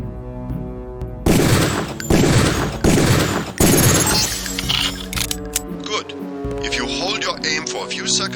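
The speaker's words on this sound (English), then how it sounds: "Release the first target and take a few shots with one of the pistols until it is destroyed." Pistol shots at a training target in Deus Ex, a few loud heavy bursts in succession followed by clattering debris and lingering game sounds.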